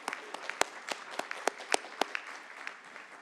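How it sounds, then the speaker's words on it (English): Audience applause fills a symposium hall at a tech ethics event, a steady wash of many hands clapping with sharper individual claps popping out, moderately loud and sustained throughout. "So round of applause for all the people I thanked here."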